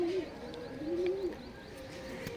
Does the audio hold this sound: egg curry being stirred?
no